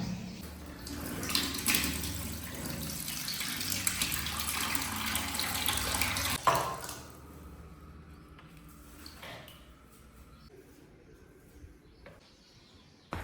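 Water pours and splashes indoors for a fake roof-leak prank, a steady rushing stream that fills the first half, then thins to sparse drips and trickles with small clatters near the end.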